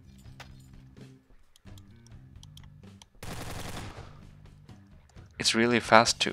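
A rotating weapon fires rapidly in Garry's Mod. A spinning, humming drone gives way to a short burst of rapid fire midway and a louder rattling volley near the end, under a voice.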